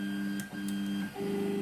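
A 3D printer running its first print hums with steady tonal stepper-motor whines that shift pitch as it moves, close and moderately loud with no talking.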